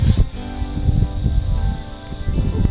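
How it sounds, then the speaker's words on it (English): Cicadas buzz in the Gila Wilderness along New Mexico's Middle Fork Trail, a steady, unbroken high-pitched drone that runs throughout over soft rustling and low outdoor rumble. "I don't know if you guys can hear that buzzing sound. That is the sound of cicadas."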